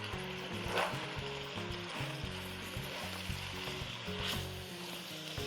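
Garlic sizzling steadily in a hot frying pan while being quickly stirred, a continuous close frying hiss with occasional scraping bursts and no talk.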